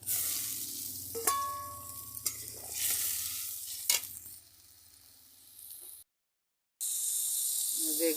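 Fried brinjal pieces go into a pan of spiced oil, setting off a steady close sizzle with scraping stirs and a few sharp utensil clacks, then a brief cut to silence before frying resumes.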